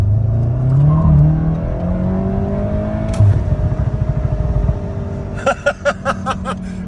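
A 300+ hp GTI engine revving and accelerating up close in second gear, a rising rumbling drone that builds, then choppy pulsing engine bursts toward the end.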